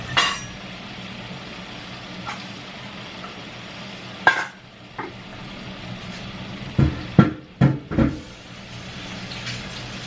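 A pot of sauce heating toward a boil on a stove, a soft steady simmering hiss underneath, broken by a few close clanks and knocks from a spoon or lid near the end, with no talking.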